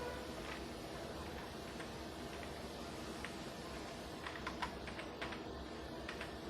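Typing on a computer keyboard, faint scattered key taps and short bursts against steady background hiss, clustering more densely toward the end.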